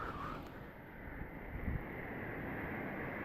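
Sea waves surge steadily at a fishing spot, a continuous broad wash with heavy wind buffeting the microphone and no voices.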